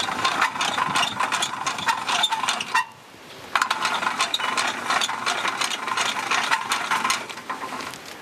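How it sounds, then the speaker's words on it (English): The front winch on a hired camper trailer winds in its strap to pull the bed over the top, a steady ratcheting mechanical whir that pauses briefly midway and then resumes, close with no talking. "we're going to be using the front winch and pulling the bed over the top"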